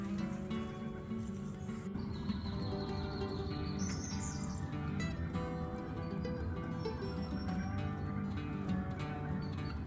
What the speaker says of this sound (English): Listening to all the birds wake up now.